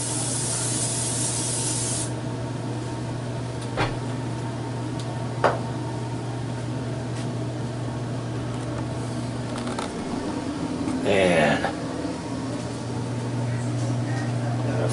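Long, steady hiss of cooking spray coating a pan in a kitchen, heard over a constant appliance hum, with a few clinks and a louder burst of rustling partway through.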